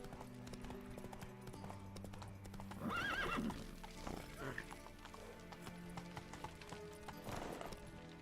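Roach, a horse in The Witcher 3, gallops with steady rhythmic clip-clop hoofbeats and lets out a whinny midway, all under game music and a voice speaking.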